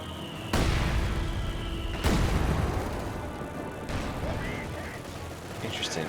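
120mm mortar fire in Company of Heroes 2, heavy booming impacts landing a few seconds apart with rumbling tails, alongside battlefield noise and talking.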